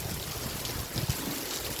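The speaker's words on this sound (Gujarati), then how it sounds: "રવિવારનો દિવસ વરસાદ ચાલુ છે મિત્રો જોઈ લ્યો" Rain falls steadily in Jamnagar city, a soft continuous wash of water noise with faint low rumbles underneath and no speech.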